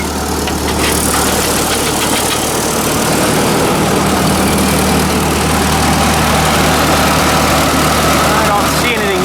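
A 1944 Ford 2N tractor engine idles after an oil change, a loud, steady low rumble with an even chugging pulse running throughout while someone speaks over it.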